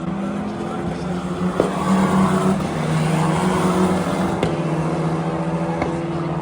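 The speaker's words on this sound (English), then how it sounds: "I spent a couple minutes watching the F1 Academy cars." F1 Academy race cars lap at the Miami Grand Prix circuit, their high engine whine droning steadily at mid distance, with a crowd murmur underneath and short tonal shifts as cars pass.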